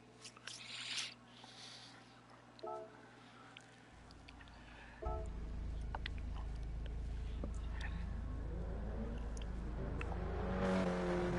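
KTM X-Bow race car engine on a practice lap of Suzuka East in Gran Turismo Sport, a low steady engine drone rising after a few seconds and holding on, faint, with someone talking at the start.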